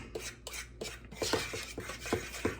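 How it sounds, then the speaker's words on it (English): A spoon stirs vanilla pudding mix in a bowl, making a run of soft rhythmic scrapes and light taps, about eight strokes close by with no voices. "we're going to give it a little stir up"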